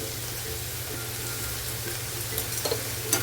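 Tomatoes with salt fry in oil for paneer bhurji, giving a continuous close sizzle with a few soft scrapes and clinks of stirring toward the end and no talk.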